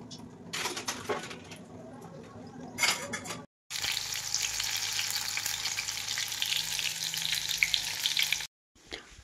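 Ridge gourd bhaji fritters fry in hot oil with a dense, steady sizzle, after a stretch of lighter bubbling and clinks and a brief silent cut.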